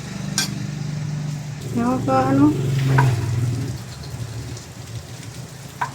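Dried fish (tuyo) frying in a pan with chili added, a soft steady sizzle under the whole stretch, with a few clinks and a short stir midway.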